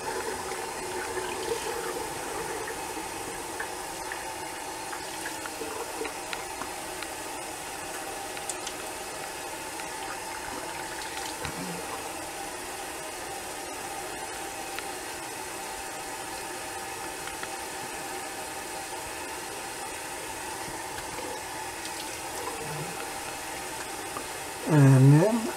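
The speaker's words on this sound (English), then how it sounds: "Cold water rinse." Cold tap water runs in a steady, fairly quiet stream during a shave with a Gem G-bar razor and Arko shaving cream, a continuous rinse lasting the whole stretch, ending with a short louder splash.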